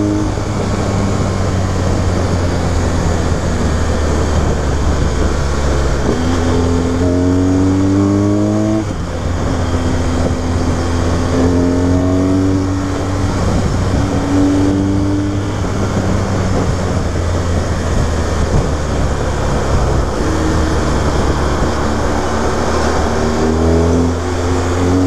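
A large BMW 1200 motorcycle engine runs loud and close for the whole stretch, with a steady low drone and rising and falling rev sweeps around the middle and toward the end.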